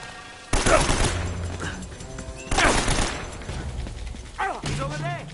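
People shooting in a firefight: two heavy, booming volleys of gunfire with rattling impacts and debris, separated by a couple of seconds, with voices and game sounds underneath.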